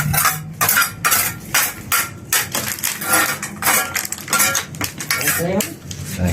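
Repeated hard metallic strikes ring out in an irregular series, loud and close, like a hammer pounding on something with clanking, crunching impacts.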